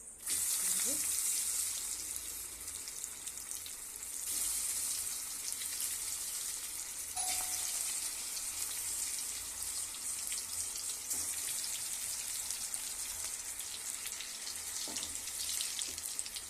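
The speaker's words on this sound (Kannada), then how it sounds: "ಇವಾಗ ಎಣ್ಣೆ ಕರಿತೀನಿ ರೀ" Palak veg keema pieces fry in hot oil with a steady, bright sizzle that crackles continuously throughout, with a few faint clinks and a voice now and then underneath.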